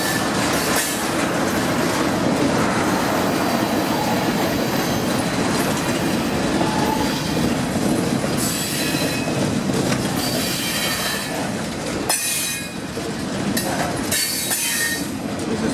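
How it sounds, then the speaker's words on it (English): A long freight train rumbles past close by, wheels clattering and squealing against the rails in a continuous heavy roar. "This is one long freight train,"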